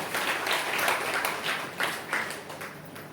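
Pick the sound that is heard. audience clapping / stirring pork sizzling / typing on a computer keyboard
audience clapping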